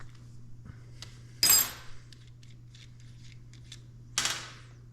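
A wrench works a nut off the liner of a MIG welding torch on a Firstess DP200 dual pulse welder, giving two sharp, close metallic clinks a few seconds apart with faint ticks between, otherwise quiet.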